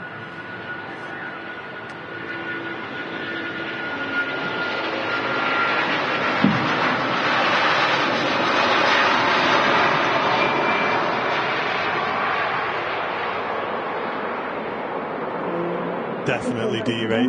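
Jet airliner engines at Manchester Airport roar at derated takeoff thrust, a broad, loud rushing that builds and holds steady before fading slightly, with people talking faintly beneath it.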